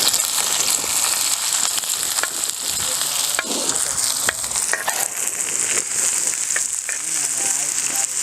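Onions fry in hot oil with a steady, bright sizzle, occasional stirring scrapes and clinks punctuating it, close and loud throughout.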